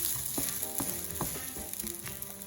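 Chopped shallot drops into a hot pan and sizzles, a close, continuous frying hiss scattered with small crackles and pops, with no talking.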